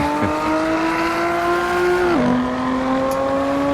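A Maserati Levante S sports luxury crossover SUV in the racing game Assetto Corsa, its engine droning at high revs, then dropping in pitch at a gear change, with faint tire noise under it.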